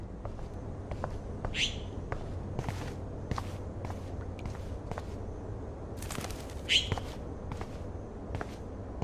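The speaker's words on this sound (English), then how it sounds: "that poor little bird has been trapped in here" In the Life is Strange video game, a bird trapped indoors gives two brief, faint chirps over quiet footsteps and scattered soft taps. No one talks.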